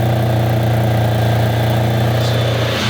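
Loud, close V12 supercar engine with a gated manual gearbox, large resonators, mufflers and catalytic converters, running with a deep, steady, even drone for a few seconds and no voices.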